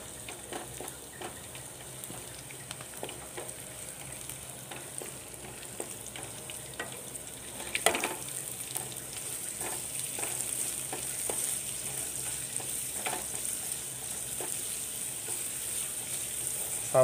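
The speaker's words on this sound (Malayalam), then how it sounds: "സവാള ഇട്ട് കൊടുക്കാം." Sliced onions sizzle in a pan after ginger and garlic, a soft steady frying crackle broken by occasional scraping stirs, heard close and alone with no talk.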